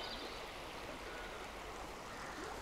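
A stream runs steadily and quietly nearby, its broadband rush of flowing water constant throughout with no voices over it.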